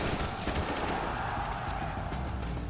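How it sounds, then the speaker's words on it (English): Continuous gunfire in the Counter-Strike 2 video game, a steady, loud stream of rapid shots filling the whole stretch. "Counter-Strike is known for its visceral and satisfying gunplay."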